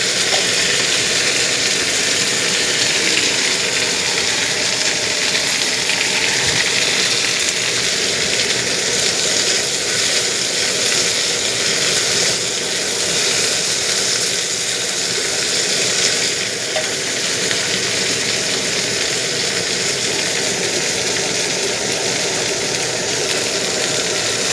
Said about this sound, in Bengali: একটু তেলেতে খুব সুন্দরভাবে নেড়ে চেড়ে নেব